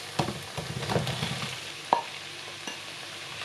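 Mushrooms stir-fried in a pan for a chicken-thigh ragout give a steady close sizzle, broken by several sharp clinks and scrapes of stirring.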